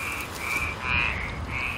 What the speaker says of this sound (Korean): 도심에선 보기 힘든 토종 참개구리.